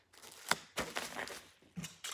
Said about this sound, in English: And sorry for the noise on the tape.